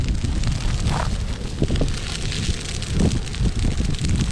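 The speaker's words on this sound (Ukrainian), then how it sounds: "Ось вже кущ починає горіти." A bush burning in a grass fire nearby: a continuous roaring rush with scattered crackles and pops, mixed with gusting southerly wind.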